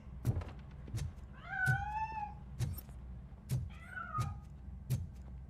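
A cat meows twice in the RoboCop: Rogue City video game, two drawn-out rising-and-falling cries set against a steady run of soft thuds and clicks, faint and somewhat distant.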